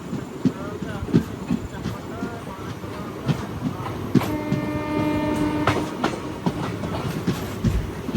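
The Falaknuma Express rolls past with a steady rumble and clickety-clack of wheels on rails, and a long horn blast sounds midway through, with a voice briefly audible nearby.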